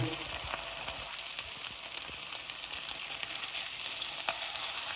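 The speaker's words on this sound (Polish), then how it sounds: "Olej mamy rozgrzany, teraz dajemy te placuszki na patelnię." Steady, crackling sizzle of chicken pancakes frying in hot oil in a pan, continuous and close, with occasional sharper pops and no talking.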